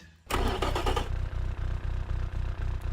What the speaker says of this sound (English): it's a racing engine, which is very cool. So now let's hear this beast